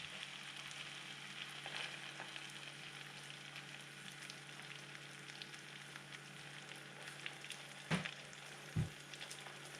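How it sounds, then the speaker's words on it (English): Steady sizzling and crackling of butter frying in a pan, with a couple of short louder pops near the end. "Butter contains a lot of water, that's why it's sizzling up that much."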